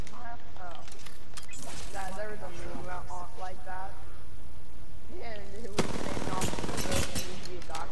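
SMG fire in a video game, rapid bursts of gunshots, loudest in a dense crackling stretch near the end, with voices talking over the shooting throughout.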